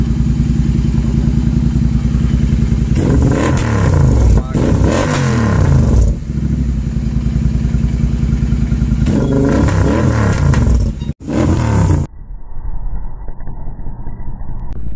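A Royal Enfield GT650 motorcycle with a Red Rooster full-system exhaust, headers and BMC air filter idles loudly and is revved in repeated surges up close before cutting off near the end; someone talks over it.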